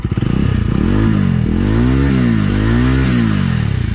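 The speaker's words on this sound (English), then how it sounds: "Let's hear the exhaust note." A motorcycle engine revs repeatedly up and down, a loud, close exhaust note rising and falling in several swells with no talking.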